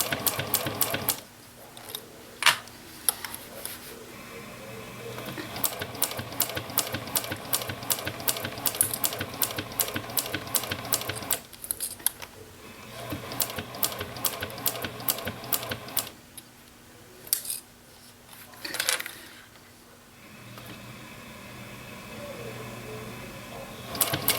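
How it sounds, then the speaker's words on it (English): A sewing machine stitches a leather wristlet clutch in bursts of rapid, even mechanical ticking, stopping and starting several times with short pauses between runs, close and clear. "just start sewing down this side and go all the way around"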